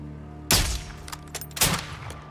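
Two loud, sharp gunshots ring out about a second apart during a Modern Warfare 2 campaign mission, each with a short echoing tail.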